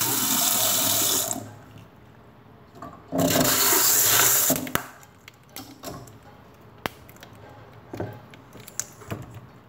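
Tap water runs loudly onto ice to melt it, two strong bursts of flow with quieter trickling, drips and small knocks between them, close and without speech.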